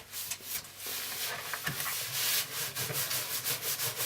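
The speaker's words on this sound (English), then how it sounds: "switch it over to the scourer side. The scourer is safe for non-stick. Give it a good scrub." A dirty oven is scrubbed hard with the scourer side of a sponge, giving close, rhythmic rasping strokes that repeat quickly with no pauses and no voices.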